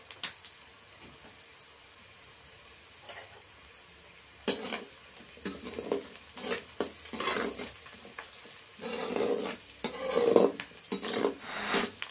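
Onions and beans fry in a pan, with steady sizzling, occasional stirring scrapes and clinks of a utensil against the pan, close and moderately loud.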